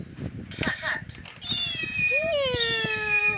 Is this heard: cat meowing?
yes